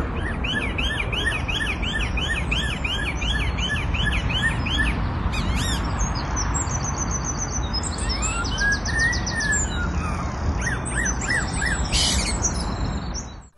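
A bird squawks and calls in a tree, repeating rapid rising and falling siren-like phrases in a police siren imitation, heard over a steady hissing background with no talk.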